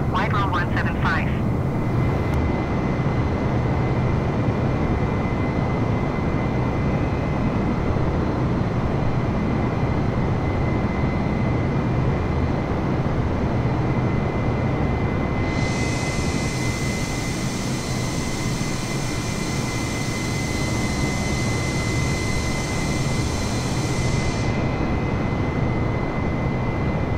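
Airbus A320 jet engines roar as a steady, continuous whine and rumble in a flight simulator, with radio-style voices talking over the engine drone throughout.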